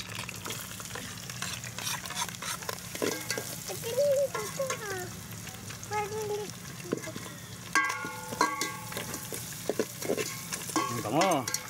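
Field frog sautéing in a hot pan with a steady close sizzle throughout, broken by scraping stirs, clanks, and occasional faint voices in the background.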